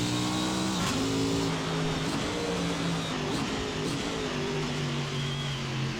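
A VRC Pavey Longhood S race car in a racing video game, its engine revving and shifting through rising and falling pitches, held gently on the throttle through a corner at a steady, moderate level.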